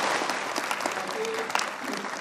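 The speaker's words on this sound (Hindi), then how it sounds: "इन दोनों ही प्रतिभाशाली जो IAS क्वालिफाई किए उनके लिए जोर से तालियां बजाएंगे" A university audience applauds two IAS toppers with loud, sustained clapping from many hands filling the hall, dense and even throughout.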